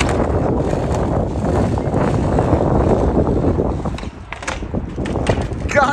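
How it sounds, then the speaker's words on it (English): Strong wind buffets the microphone in a loud, continuous roar outdoors at night while street skating, dipping briefly near the end before gusting again. "God, it's so windy."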